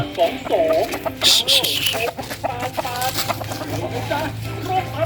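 Chickens cluck and squawk busily close by, with a person's voice chattering over them.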